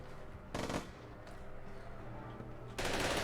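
Bursts of automatic gunfire in a shooting video game, two short rattling volleys with a quieter stretch between, the second starting near the end and continuing.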